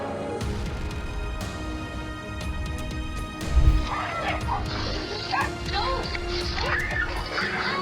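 Two pit bulls attack a cat lying at a house entrance, giving out repeated barks, yips and whimpers close by, with a thudding crash midway and other voices mixed into the scuffle.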